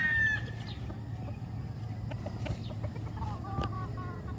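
Farm chickens on a big Philippine breeding farm cluck and crow at feeding time, a rooster's call rising over a steady background of clucking, with a faint voice now and then.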